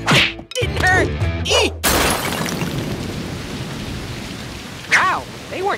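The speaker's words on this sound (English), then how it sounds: "they weren't kidding about that rain" Heavy cartoon rain pours down in a dense, steady hiss after a loud burst, with a voice briefly cutting in near the end.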